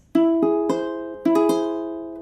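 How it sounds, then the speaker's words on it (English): An augmented chord in second inversion, sounded twice as quick rolled notes that ring and fade, close and clean with nothing else heard. "an augmented chord in second inversion sounds like this"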